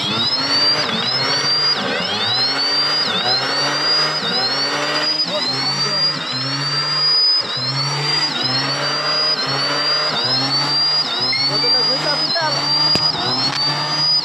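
Electric motor of a modified e-rickshaw running at high speed, a loud continuous whine with rising and falling pitch sweeps repeating every second or so, with a voice speaking over it.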